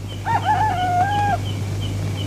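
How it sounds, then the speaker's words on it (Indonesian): A single rooster crows once, a long, clear cock-a-doodle-doo rising and then holding, heard in a scene from a 1973 Indonesian feature film over a steady low electrical hum. "Ayam sudah bangun."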